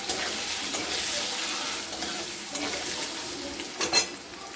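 Potatoes frying with turmeric in an oiled pan give a continuous close sizzle, with occasional spatula scrapes and a louder clink near the end.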